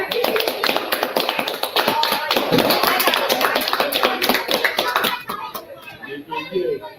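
Rapid, steady clapping of hands close by, loud and continuous, with background voices, easing off near the end.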